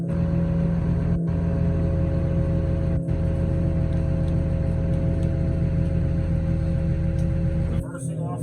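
A Trackmobile Titan railcar mover drives along, its engine giving a steady loud rumbling drone for most of the stretch, with a pair of brief dropouts before the noise shifts and thins near the end.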